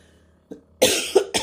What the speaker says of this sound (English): I'll probably end up coughing all the way through this video.